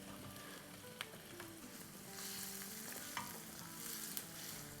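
Sliced onion sautéing in a pan on high flame, a constant close sizzle with a few scraping stirs and a brief louder hiss midway, no talk.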